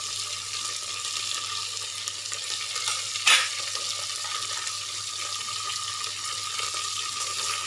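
Ginger-garlic paste, green chillies and mint being stirred into frying village-style pulao in a pan, with a steady sizzle throughout and one sharp scrape of the spoon partway through.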